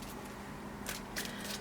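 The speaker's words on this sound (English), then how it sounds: "Let's give it another shuffle." A tarot card deck being shuffled, two short soft riffling bursts of cards close by in a quiet room, with no talk.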